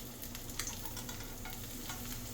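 Tofu frying in oil over medium-high heat sizzles quietly and steadily, with faint crackles and pops throughout and no talking.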